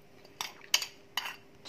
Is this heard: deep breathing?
no